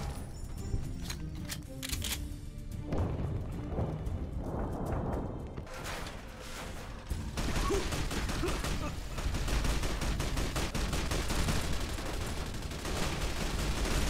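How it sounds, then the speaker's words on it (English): Dense, continuous bursts of gunfire, lasers and blasts in Fallout: New Vegas with The Frontier mod pile up loudly, rapid shots crackling over rumbling explosions with barely any pause. "There's lasers and explosions everywhere."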